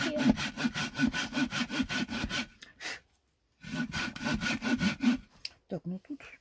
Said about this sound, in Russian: Так, ну тут далеко пилить надо.